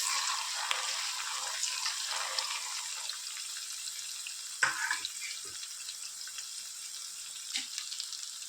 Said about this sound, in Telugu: అల్లం పచ్చి వాసన పోయేంత వరకు వేయించుకోవాలి